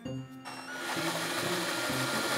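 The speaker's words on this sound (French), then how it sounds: "Alors j'utilise mon petit outil qui est une petite visseuse, très pratique. Je fais des petits trous" A small cordless screwdriver drills little holes, giving a steady, close-up high-pitched motor whine with slight pitch dips as the bit bites into the material.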